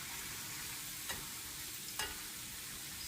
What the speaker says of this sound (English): So I have a tiny bit of butter in this pan, just a little bit, because there's a lot of moisture in mushrooms